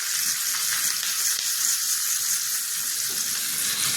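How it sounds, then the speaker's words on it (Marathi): Mustard seeds, cumin, curry leaves and asafoetida sputter in hot oil for a tempering, giving a continuous bright crackling sizzle at close range. "त्याच्यात मी आता तडका देते."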